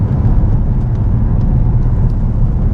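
Engine and road noise from a flood-damaged Infiniti G35 being driven, a steady loud low rumble and whir that holds evenly from start to end with no talking.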